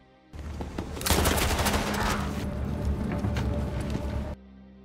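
Dense film gunfight gunfire during a mafia shootout with police, rapid bursts of shots and automatic fire overlapping continuously at loud volume, with no talk.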